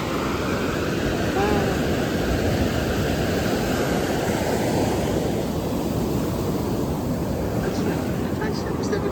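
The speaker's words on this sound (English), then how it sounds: "That's the Pacific Ocean." Pacific Ocean surf washing steadily onto a beach, a continuous broad roar of breaking waves with some wind buffeting the microphone, loud and close throughout with no clear pauses.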